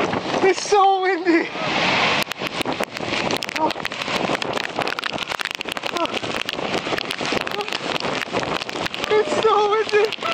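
Strong gusting wind and heavy spray roar steadily beside a waterfall in Quebec City, loud and close to the microphone, with people shouting and talking over the blustery din throughout.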